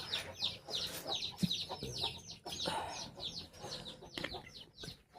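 Guinea fowl cluck and chatter repeatedly in quick, rough bursts, several birds close by, with faint voices and rustling in the background.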